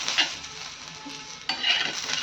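Roasted peanuts stirred into spicy green chilli thecha in a hot pan, giving two close scraping, sizzling stirs with a short pause between them and no voices.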